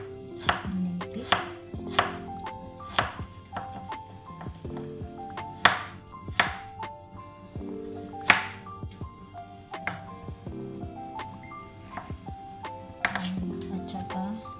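Knife slicing ginger thinly on a cutting board, a steady series of crisp, close chops with short pauses between bursts.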